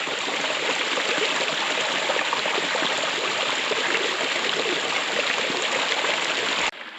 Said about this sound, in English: You can see right here where the pool flows over, heads on downriver.